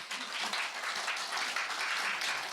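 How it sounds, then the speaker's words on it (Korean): Audience applause at a forum session on the Asian water industry, moderate clapping from a seated conference crowd, steady and somewhat distant throughout. "다시 한번 발제자 두 분께 감사의 박수 부탁드립니다"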